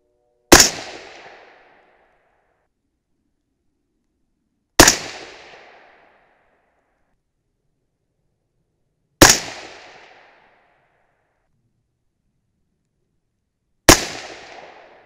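Four sharp, loud shots from a .223 Remington rifle firing 53-grain Hornady V-Max handloads, evenly spaced about four to five seconds apart, each with a short decaying echo and silence between.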